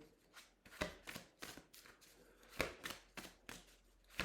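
Tarot cards being shuffled during a full-moon reading, a series of soft, papery riffling bursts at an irregular rhythm, close and fairly quiet, with no talking.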